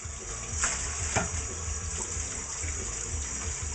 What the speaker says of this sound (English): Chef has to do his dishes.